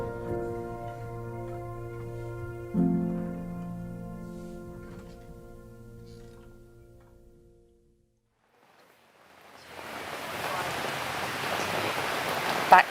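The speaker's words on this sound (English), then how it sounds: "Back to the rain." Rain falls steadily at an outdoor charity sleep out, a dense, even hiss of drops that swells in after soft sustained tones fade to near silence, then holds loud and close to the end.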